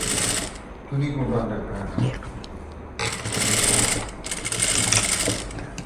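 Sewing machine stitching fabric for a newborn baby's photo shoot dress, its fast whirring runs in bursts, stopping and restarting, with a voice talking briefly between runs.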